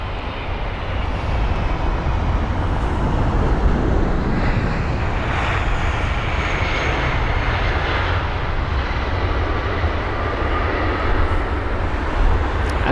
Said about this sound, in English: We've got the 767 up next with United